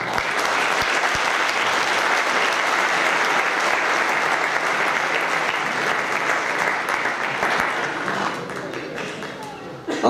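A large crowd at a presentation of the Stal Stalowa Wola football players applauds steadily and warmly, a dense wash of clapping that holds for several seconds before thinning out near the end.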